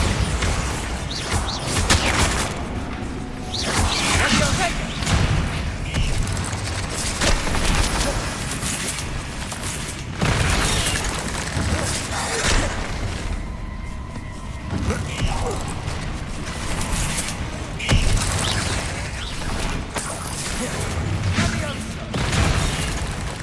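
Bombarda spell explosions in Hogwarts Legacy, repeated heavy booms and crashing impacts over a long stretch of combat, loud and close with mechanical clatter and some speech mixed in.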